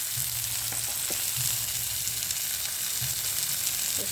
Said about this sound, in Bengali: সমস্ত সবজিগুলোকে সুন্দর করে ভেজে নিতে হবে